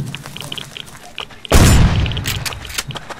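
A single loud, close shotgun blast in the survival video game Rust, a sharp boom that decays with rumbling tail and scattered impacts, preceded by quieter game sounds.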